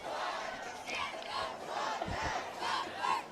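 A high school football crowd and JV cheer squad in the home stands chanting and yelling in rhythmic bursts, a massed group of voices rising and falling in waves, loud and somewhat distant.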